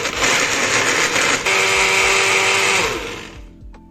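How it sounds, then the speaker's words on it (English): A kitchen blender whirs loudly while blending grated coconut with water, a steady high motor drone that shifts pitch midway and then winds down to a stop. "I'm adding just enough water to cover and blend."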